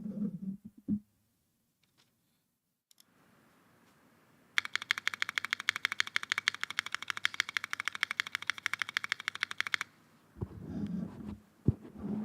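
Space bar fitted with a Creative ABS keycap on a mechanical keyboard, pressed rapidly for about five seconds as a steady train of sharp, close clacks, set between stretches of near silence and muffled handling noise.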